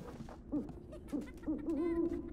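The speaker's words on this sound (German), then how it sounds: "Da war eine Eule." An owl hoots repeatedly in the video game Never Alone. The soft, low hoots are evenly spaced over a game soundtrack background, with no talking.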